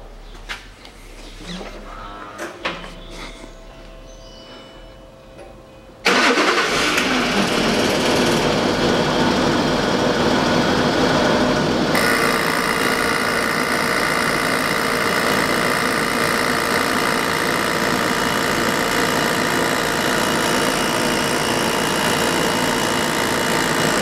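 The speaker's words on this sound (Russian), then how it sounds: "Все, компрессор работает, не отключается." The air suspension compressor on a Land Rover Discovery 3 kicks on suddenly after a few knocks and handling sounds, then runs loud and steady with a buzzing, rattling drone that continues without stopping.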